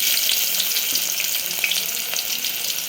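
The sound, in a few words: onion frying in hot oil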